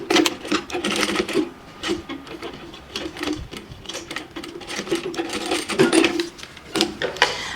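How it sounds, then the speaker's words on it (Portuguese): Sewing machine stitching fabric for a handmade bag, close and busy, with bursts of rapid needle clatter broken by short pauses and handling rustles. "E aí, costuro novamente aqui."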